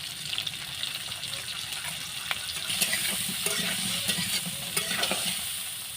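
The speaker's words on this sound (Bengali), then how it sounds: "আমার আলুগুলো কিন্তু লাল লাল করে ভাজা হয়ে গেছে" Potatoes frying in a pan of oil with salt and turmeric, giving a steady, close sizzle with scraping and stirring throughout.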